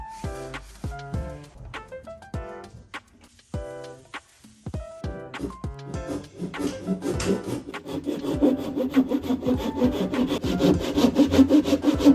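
A hand woodworking saw cuts through wood in rhythmic rasping strokes. They start spaced and uneven, then grow faster and louder, close up and with no talk.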